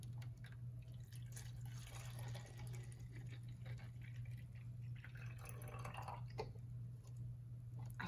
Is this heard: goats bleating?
no